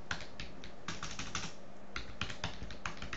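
Numbers go in on a computer keyboard in Word as a quick, close run of crisp key clicks. The bursts are short and irregular, with no talk over them.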